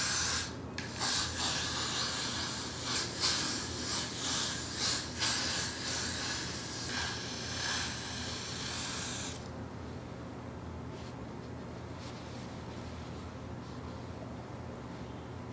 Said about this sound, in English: I'm going to just spray that all over the head